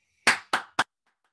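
Three sharp, close hand claps ring out in a short rhythm, the first two evenly spaced and the third quicker, followed by silence.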